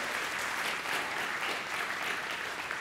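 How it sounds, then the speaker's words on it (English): An audience at a JSConf.Asia 2015 conference talk applauds in sustained, even clapping that fills the room for several seconds, with no voices over it. "Big round of applause to him."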